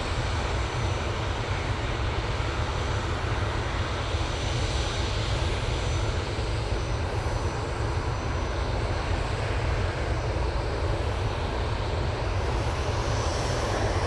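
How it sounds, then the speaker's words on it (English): An EasyJet Airbus A319 jet at Manchester Airport roars steadily with a broad, continuous engine rush, loud and sustained throughout with no talking. "This is the flight to Belfast for EasyJet using the A319."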